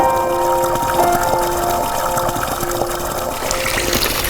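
Water trickling steadily from an iron-rich spring along a trough that leaves rust-coloured deposits, a continuous close, moderately loud splashing flow with no voices.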